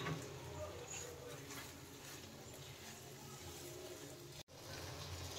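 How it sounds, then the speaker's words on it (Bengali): Water pours into a pan of egg chicken tadka, a steady broadband splashing and sizzling wash that runs nearly unbroken and fairly loud, with one brief dropout near the end before resuming. "এবার একটু জল দেব"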